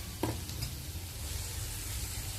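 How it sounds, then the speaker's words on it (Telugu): Carrot, onion and beans stir-fry in a pan for sauce-free noodles, giving a steady close sizzle with a brief stirring scrape near the start. "నేను ఓన్లీ క్యారెట్, ఆనియన్ అండ్ అట్లాగే బీన్స్ కూడా యాడ్ చేస్తాను"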